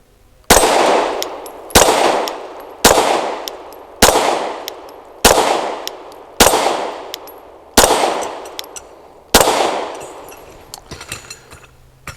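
Eight loud, sharp shots ring out one by one at roughly regular intervals from an Ermox X-fire pistol with a 4-inch barrel firing New Republic ammo, each crack followed by a decaying echo, with no talk.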